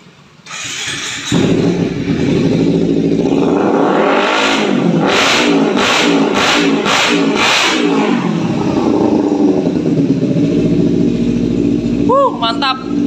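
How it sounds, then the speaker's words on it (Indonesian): A motorcycle engine starts, then revs hard in a rapid series of loud throttle blips before settling to a rough idle, close by. "Kita tunggu pengiriman untuk motor ini, kita cek sound dulu"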